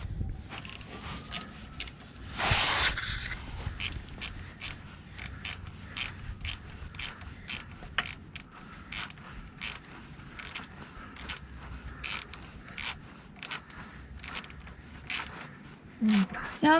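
Ratcheting wrench clicks in a steady run as bolts are snugged down on a differential skid plate for a Jeep JL, close and crisp, with a few heavier metallic knocks and creaks between strokes.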